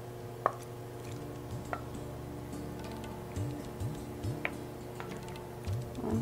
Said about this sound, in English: I'm adding in chopped spicy turkey sausage